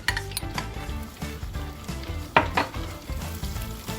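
Hot sauce being stirred into melted butter in a pan for buffalo wings, heard as a steady soft sizzle with repeated utensil scrapes and clinks against the pan, one sharper knock midway.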